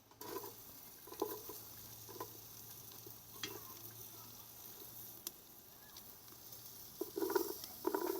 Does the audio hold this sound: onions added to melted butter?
yes